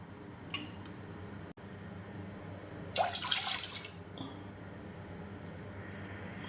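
Two cups of water splash briefly into a pot for about a second, quiet and close, against a low steady background hum.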